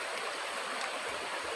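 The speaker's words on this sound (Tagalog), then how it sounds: "Malakas ang tubig." Strong, steady rushing water of a stream at a dam, a continuous broadband roar close by with no breaks.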